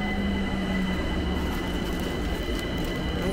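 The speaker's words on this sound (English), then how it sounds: "the train's here." Train arriving at a London station, a steady loud rumble of wheels on rails with faint metallic squeal, continuous and close, no voices.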